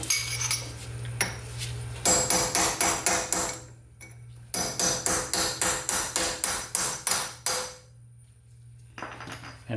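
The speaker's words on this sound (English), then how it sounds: "Now I'm just gonna use my chisel just to punch it out the rest of the way" Metallic hammer blows on a chisel driving out a BMW E46 rear wheel bearing, two sharp bursts of rapid ringing taps close by, separated by a brief pause, with a few more strikes at the end.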